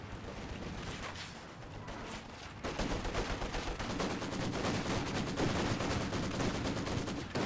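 In a World War II real-time strategy game, a Stuka dive bomber strafes the ground with dense, continuous rattling gunfire that grows heavier and louder midway and keeps pounding to the end, with no voices over it.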